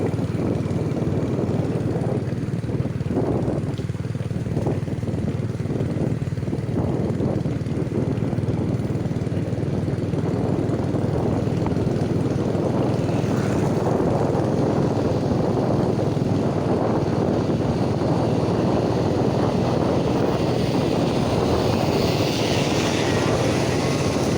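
A boat motor drones continuously at close range, loud and steady throughout with little change in pitch.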